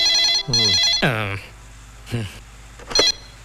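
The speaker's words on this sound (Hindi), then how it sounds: "लगता है उसी सूर्य का फोन है।" A telephone rings in a Bollywood film scene: several bright, tonal ring bursts spaced through the moment, clear and close, with no one talking.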